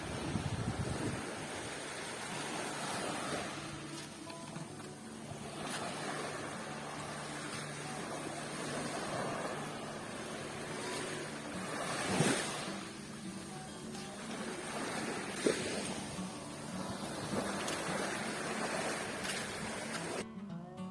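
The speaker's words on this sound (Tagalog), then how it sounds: "Yung ganitong tunog ng hampas ng alon tsaka yung view ng dagat, no?" Sea waves wash onto a provincial shore in a steady broadband roar, with a few louder surges and crashes rising out of the continuous surf.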